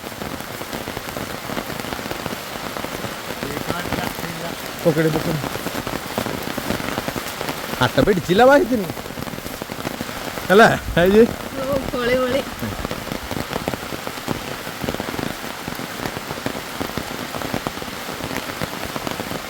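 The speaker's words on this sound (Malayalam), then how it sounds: "ഫുൾ പവർ മഴ ഗൈസ്" Heavy rain pours down steadily in the forest of Parambikulam Tiger Reserve, a dense, continuous patter across the whole stretch, while people talk at times over the downpour.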